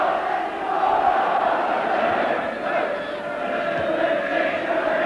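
A football crowd at the Oxford United v Everton League Cup quarter-final keeps up a continuous roar of chanting and shouting, steady and fairly loud throughout with slight swells.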